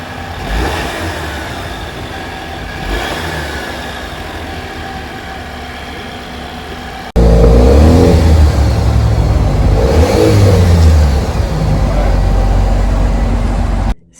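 A Dodge Hornet GT four-cylinder engine idles at first, then cuts abruptly to a louder close recording of the engine running and revving with surging rises.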